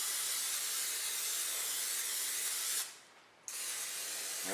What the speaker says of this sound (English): Take some Pam or any type of vegetable oil, lightly coat your casserole dishes